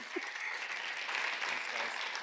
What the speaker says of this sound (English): Well, how about a round of applause for Jeremiah?